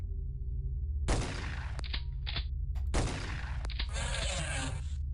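Gunfire in the turn-based strategy game OpenXcom with The X-Com Files mod: two loud, sharp shot bursts about two seconds apart, each trailing into a brief echoing decay, with a few quick clicks in between.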